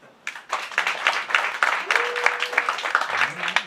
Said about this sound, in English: clap if you're undecided